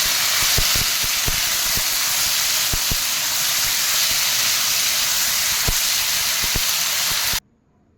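Potatoes and eggs fry in a pan with salt and spices, producing a steady, loud, hissing sizzle with occasional pops and clicks that cuts off abruptly near the end.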